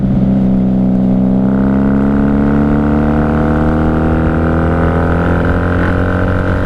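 A 1994 Honda Magna 750 VF750C motorcycle engine revs loudly while being ridden, its pitch climbing steadily as the V4 winds up through the gear, close and continuous throughout.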